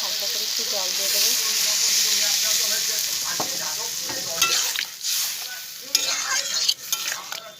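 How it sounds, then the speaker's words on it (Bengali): Water hits a sizzling prawn and potato curry in a pan, giving a loud steady hissing sizzle that eases off as stirring and scraping sounds come through near the end. "একটু হয়ে গেছে, এটা হালকা করে একটু জল দিয়ে দেবো।"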